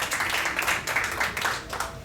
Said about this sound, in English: Now a big round of applause for all our candidates